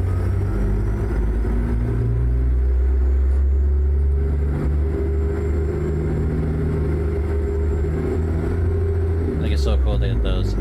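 A heavy truck in American Truck Simulator hauling equipment pulls away with a steady, loud low engine rumble that builds a little, and a brief clattering burst comes near the end.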